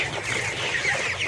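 Backyard chickens clucking close by, a dense overlapping flock chatter lasting just over a second, with no talking.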